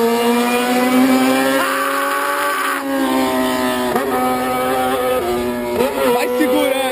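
A car with a loud 4-2-1 single-pipe exhaust revving hard and holding high revs, a harsh, deafening roar that rises and dips with throttle blips, close and continuous.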